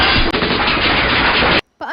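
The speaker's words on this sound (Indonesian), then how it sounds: "Rekan Suho Jo yang melihat itu langsung menembak ke arah Pak An." Gunfire in a Korean drama set during a standoff: a loud, sustained burst of shots lasting over a second and a half, cut off abruptly, followed by a brief faint sound.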